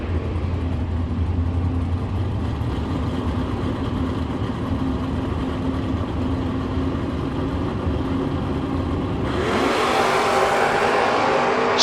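Drag racing cars, including a first-generation Camaro, roar at a Door Wars event with a steady loud engine drone that swells into a louder, brighter surge near the end as the cars launch.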